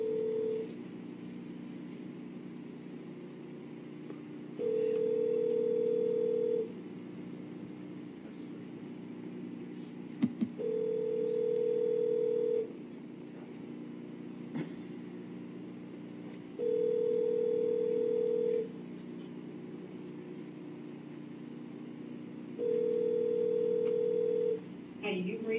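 Telephone call ringing out before going to voicemail: repeated ringback tones in even bursts about every six seconds over a steady low hum, fairly faint, with no talking.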